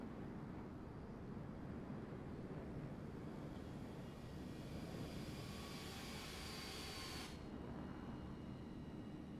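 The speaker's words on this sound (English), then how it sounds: "Oh, the sound of that frickin' afterburner." A jet aircraft's afterburner in the video game Microsoft Flight Simulator 2024 makes a steady, broad roar that stays constant for about nine seconds, with a high rushing edge that cuts off abruptly near the end, and no voices.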